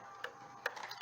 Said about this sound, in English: You just spin that dial